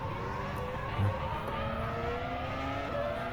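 Race car engine in the rFactor2 sim racing game holding a steady, continuous drone with gentle pitch shifts as it accelerates and shifts, with no talk over it.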